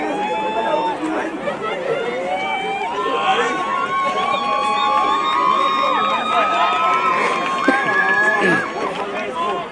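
Spectators across a youth sevens rugby pitch cheer and shout in a distant, continuous wash of crowd noise, with children's voices rising through it and a commentator talking over the top.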